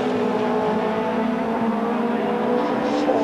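BMW and Mitsubishi touring cars race together at the 1990 British Touring Car Championship, a loud continuous engine drone with steady harmonic whine, close and sustained over the whole stretch.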